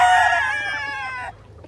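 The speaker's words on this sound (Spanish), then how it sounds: "Aquí está otro gallito." A rooster, one of a flock of Gray gamefowl on a farm, crows once loudly and close by, a single rising then falling call lasting just over a second before cutting off.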